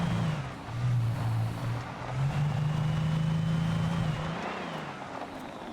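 A car driving in a video game, its engine a steady humming drone that shifts pitch slightly and dips briefly, then fades near the end.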